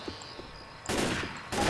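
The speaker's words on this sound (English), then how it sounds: "Oh, you can't stop shooting!" Gunfire in Left 4 Dead 2: two loud, sustained bursts of rapid shooting after a quieter stretch of faint ambient noise, close and harsh.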